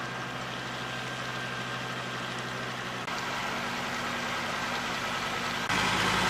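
A car engine idles steadily inside a wagon, a low even hum with a slight shift in pitch partway through, moderately quiet with no talk.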